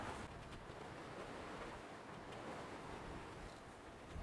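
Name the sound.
ocean waves rocking a small sailboat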